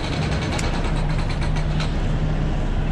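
A truck engine runs roughly nearby, a loud continuous rumble with uneven mechanical rattling throughout and no voices.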